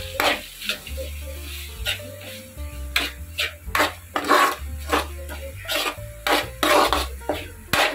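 Spatula scraping and stirring masala in a pan on low flame for egg curry, repeated rasping strokes in an uneven rhythm with light clatter against the metal.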